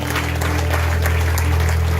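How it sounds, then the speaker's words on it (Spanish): A church congregation applauds during a Spanish-language worship service, producing a dense, loud, steady wash of clapping close by, with a low electrical hum running underneath. "Denle un aplauso al Señor"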